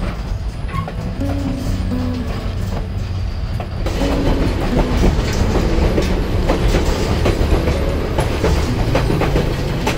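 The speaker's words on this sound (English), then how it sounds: "And now we can see the other train heading for the tunnel." A train on the White Pass scenic railway near Skagway, Alaska, rumbles steadily past heading for a tunnel, rhythmic clickety-clack of wheels on rails growing a bit louder midway, with faint metallic squeals.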